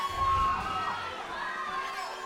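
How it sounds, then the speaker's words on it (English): A crowd's cheering section at a high school esports state final for Mario Kart 8, heard as a steady roar of distant voices and shouts under game music, swelling early then holding. "we hear the cheering section here for Del Norte."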